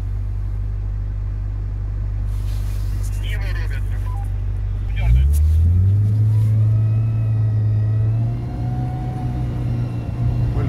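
A Suzuki Samurai off-roader swings through a sharp police-style U-turn on an off-road raid; its engine drones low and steady, then revs and climbs in pitch as the vehicle turns, loud and close.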